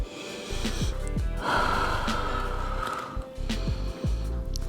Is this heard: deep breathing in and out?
yes